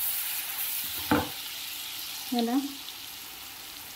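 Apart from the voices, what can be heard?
tomato frying for chutney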